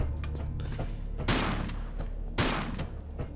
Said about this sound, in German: Jetzt kommt die Shotgun.